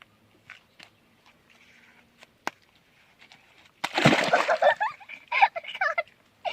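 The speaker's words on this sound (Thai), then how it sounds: "ทุกคนเดี๋ยวเราจะกระโดดลงน้ำเลย" A person jumps into the water of a pond in a garden, making a loud, close splash with sloshing and churning water that follows a quiet stretch of light outdoor noises.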